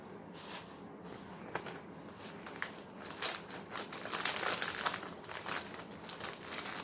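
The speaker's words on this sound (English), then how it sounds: "And open the paper." Paper crinkles and rustles as it is unfolded by hand, a soft, fairly quiet crackling with a few sharper bursts partway through, close by and with no talking.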